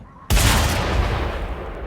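In the Mad Max video game, a weapon fires at a target: a sudden, loud gunshot blast after a brief quiet moment, followed by a long rumbling decay and debris-like noise.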